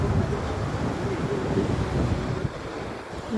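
Sea waves washing onto Digha beach, a steady low roar of surf blended with wind buffeting the microphone, continuous and fairly loud for the whole stretch with no clear individual breaks.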